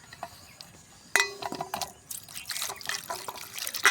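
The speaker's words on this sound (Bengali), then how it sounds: "তো আমগুলো প্রথমে আমরা ধুয়ে নিলাম।" Mangoes being rinsed in water, with quiet drips and splashes, then sharper clinks and sloshing of fruit knocking in a vessel, close and without talk.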